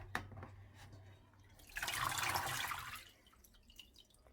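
Grape leaves are lifted from cold water into a colander, giving a brief swell of splashing and running water midway, then scattered small drips, quiet and close.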